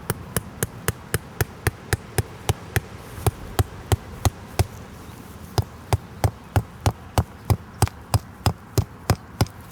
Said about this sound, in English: You put this little cap on the top and you just hammer it in.